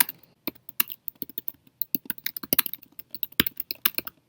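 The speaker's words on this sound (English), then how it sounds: "So I will type it in." Rapid, uneven typing on a computer keyboard, with close, crisp key clicks in irregular bursts and short pauses, heard alone without talk.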